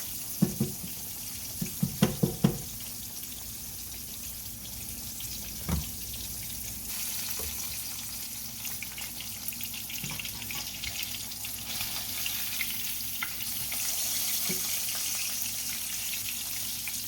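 Thinly sliced fish fillets fry in a skillet with a thin coat of oil, giving a steady, soft sizzle with a few sharp pops and crackles near the start.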